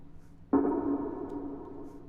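A single percussion hit from an electronic music production, a sudden mid-pitched struck tone with a ringing tail that fades slowly, fairly quiet and heard alone.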